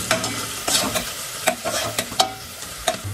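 Onions fry in a pan with a piece of cinnamon, two opened cardamom pods and two cloves, sizzling steadily while a spoon scrapes and stirs in repeated sharp strokes, close up and with no voices.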